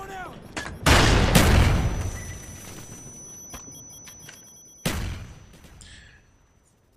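Gunfire in a Call of Duty: Black Ops gunfight with a FAMAS rifle, loud close bursts of shots opening the clip and another sharp volley near the end, with a lingering ringing tone between them.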